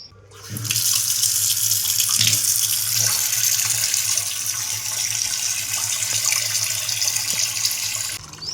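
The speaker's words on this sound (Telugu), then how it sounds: "సింక్లోకి వెళ్ళి వాటర్ తిప్పమ్మా" A tap gushes water into a sink in a steady, loud stream that starts abruptly and runs for several seconds before stopping.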